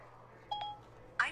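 A phone emits a couple of short, faint tonal beeps followed by a brighter electronic chirp near the end, alone against a quiet background.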